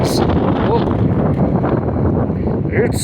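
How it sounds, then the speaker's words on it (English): Steady, blustery wind buffets the microphone throughout, a dense low roar with no clear breaks. "so windy day"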